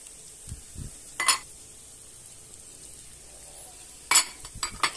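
Asparagus and onions sizzle in a pan as three beaten eggs go over them, a steady close frying hiss broken by a few sharp bursts of spatter and light utensil clinks, with no voices.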